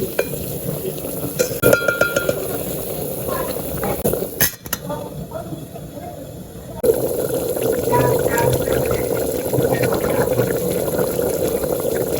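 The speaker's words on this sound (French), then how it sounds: "Et je mélange un peu." Beef tripe soup stirred in a pot over the heat, with continuous scraping and sloshing of the utensil and a simmering sizzle that grows fuller and steadier partway through.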